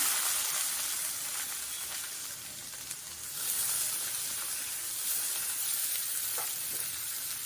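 A big chopped onion drops into hot oil and keeps up a loud, dense, hissing sizzle, swelling slightly partway through, with a few faint stirring scrapes close by.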